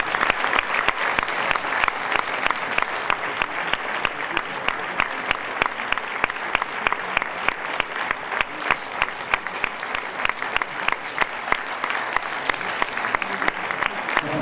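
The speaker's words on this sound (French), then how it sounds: "Merci de faire une ovation à monsieur Jean Becker." An audience at a film premiere gives a standing ovation for director Jean Becker: dense, sustained clapping from a large crowd that continues evenly throughout.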